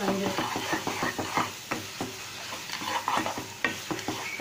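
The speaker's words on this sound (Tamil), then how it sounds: "கொஞ்சம் மீடியம் ஃப்ளேமில் வச்சு வணக்கி கொடுத்துட்டே இருங்க, நெய் தனியாக பிரிஞ்சு வர வரைக்கும்" Thick wheat halwa being stirred and sauteed in ghee in a pan over medium flame, with repeated close scraping and clattering strokes over a steady soft sizzle.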